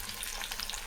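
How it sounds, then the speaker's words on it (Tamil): Onions sautéing in a pan for a spicy mint chutney give a brief, steady, close sizzle with no talking. "வெங்காயம் நல்லா வதங்கிடுச்சு."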